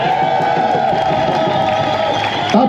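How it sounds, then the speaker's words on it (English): Rally crowd at a Dublin protest for sanctions and an end to the Gaza war, cheering and applauding for a member of a legal team, a dense, steady roar of voices and clapping that holds loud throughout and swells slightly near the end. "a huge round of applause for Blinna"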